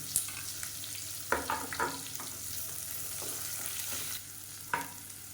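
About fifteen cut small onions fry in a pot of oil for mutton bone soup. A continuous close sizzle runs throughout, and the spoon stirs with a few louder scraping bursts.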